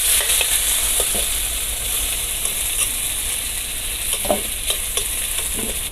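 Steady, dense sizzling of potatoes frying in oil until reddish, with occasional scraping clicks of stirring over the constant hiss.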